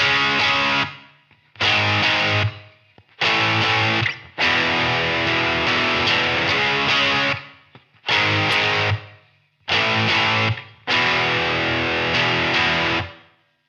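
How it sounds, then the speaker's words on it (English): Electric guitar on the bridge pickup through a distortion pedal plays the chorus of a song in loud, thick chord blasts, repeated in rhythmic phrases separated by short silences. "turn on those distortion pedals, flip your pickup selector to that bridge pickup"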